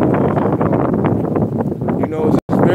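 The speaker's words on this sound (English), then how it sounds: "So it's very, very windy." Strong wind blows outdoors, buffeting the microphone with a loud, continuous roar while someone talks over it throughout, broken by a brief dropout near the end.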